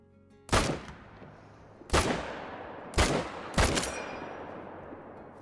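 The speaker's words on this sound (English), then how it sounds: "pay attention to how quickly I can actually empty the clip here on this Gemsbok" Four rifle shots ring out in the Call of the Wild hunting game as a gemsbok is targeted. Each loud crack fades away before the next, with the last two fired in quicker succession.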